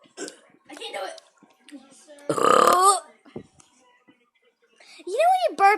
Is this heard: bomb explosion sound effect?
no